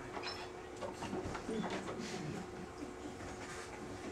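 A train sound effect plays in a stage play, a steady, faint rolling rumble and clatter that runs the whole time with no speech over it.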